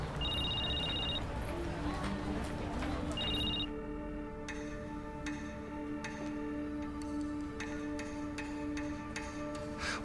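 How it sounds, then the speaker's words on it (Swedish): A telephone rings in an apartment in short double electronic trills, fairly close, followed by a tonal musical passage. "Det ringer här."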